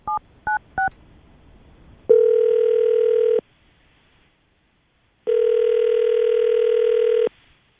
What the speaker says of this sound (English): we're going to call him right now